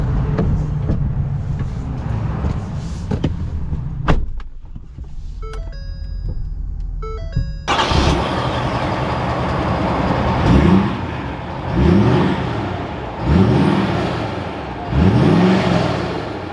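A Ford F-450 FTX pickup truck sounds a few electronic chimes in a quiet cab, then its engine fires up and settles into a rumbling idle, followed by four separate, swelling revs as it pulls away.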